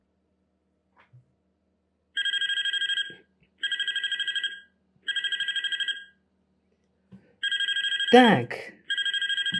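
A telephone rings in the video game Graveyard Shift at Freddy's, repeated electronic bursts of four clear double-tone rings with short pauses, plus a loud sweeping tone and a brief spoken word.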